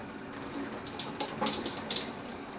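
Shower water runs in a steady, hissing spray, with small splashes and patters breaking the stream at a moderate, close level.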